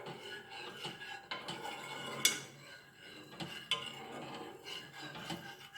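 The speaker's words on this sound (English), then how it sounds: "So you stir well." A spoon stirring turmeric milk in a cup or pot, giving soft scraping and clinking with a couple of sharp metallic taps, close and quiet, no voices.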